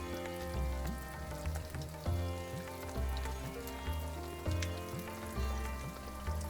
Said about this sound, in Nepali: अघि हामीले म्यारिनेसन गरेको चिकन पिसेस राख्दै छु।